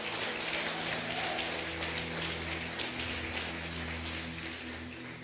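A church congregation applauding during a sermon, a dense, steady patter of many hands clapping together with a low hum underneath, fading slightly toward the end.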